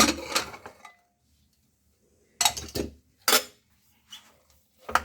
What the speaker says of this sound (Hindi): अब मैं कुकर को खोल दूंगी